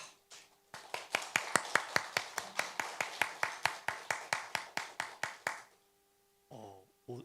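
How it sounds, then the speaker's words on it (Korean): Rhythmic unison clapping from a church congregation at an Easter Sunday service, about two dozen evenly spaced claps, fairly close, ending abruptly, followed by a short spoken voice. "우리 큰 박수로 맞아주시기 바랍니다"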